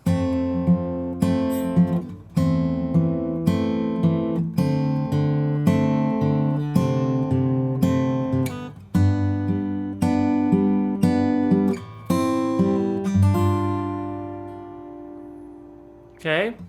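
Acoustic guitar plays the chorus of a song, with a series of strummed chords, some of them barre chords, ringing in a steady rhythm and sustaining between strums, clear and close, with a final chord left to decay, no singing or talk.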